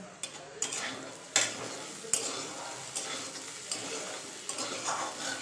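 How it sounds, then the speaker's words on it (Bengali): Potato, bitter gourd and pointed gourd fry in a pan with a soft, continuous sizzle, punctuated by several distinct spatula scrapes and clinks against the pan at irregular intervals. "আলু, উচ্ছে আর পটল দিয়ে একটা ভাজা"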